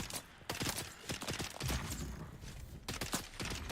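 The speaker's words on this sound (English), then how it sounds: "Stop shooting me" Rapid bursts of gunfire in the Dune video game, out in the deep desert, crackling in quick irregular volleys at moderate loudness with no talking.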